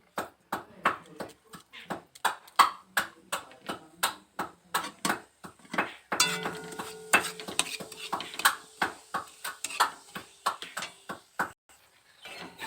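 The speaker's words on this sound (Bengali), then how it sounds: "একটু নাড়াচাড়া করে নেব" Bay leaf, a dried chili and flattened rice are stirred in hot oil in a village kitchen, giving a steady run of sharp metal-on-pan scrapes and clinks at close range, with a voice talking over part of it.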